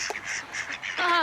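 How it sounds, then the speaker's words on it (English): Ducks quack while being fed by a pond, a few broken calls giving way to a loud, drawn-out quacking burst near the end, close and fairly clear. "the ducks are happy, lots of happy quacking"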